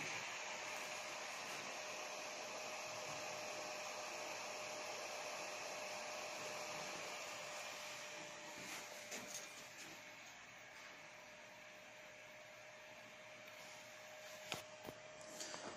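A Baikal 150M mini crypto miner's small cooling fan runs with a steady whirring hiss and a thin constant hum, a few brief clicks near the end.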